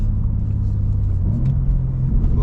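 A stock-turbo BMW M2 with a manual gearbox rumbles loudly on the road, its engine note rising as the turbo spools while driving, heard from inside the car with no talk.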